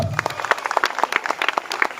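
Audience applause at a school annual day function for a nursery and primary school, a dense burst of many hands clapping that starts under a trailing voice and continues steadily and fairly loud.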